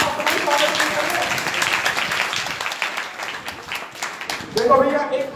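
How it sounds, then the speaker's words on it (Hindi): An audience at a Bhagwat Katha gathering, a Bhagwat saptah in Baraut, claps in a sustained, dense patter of many hands that swells again near the end. "आप सब लोग अपने लिए ताली बजाएं"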